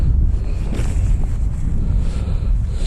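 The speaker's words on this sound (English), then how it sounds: "Wind's getting up." Steady, loud wind roars across the microphone at an outdoor model-plane flying session for a 750mm HobbyKing Hawker Hurricane, a constant low rumble with no talking.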